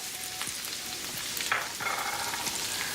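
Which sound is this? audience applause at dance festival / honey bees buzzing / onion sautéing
onion sautéing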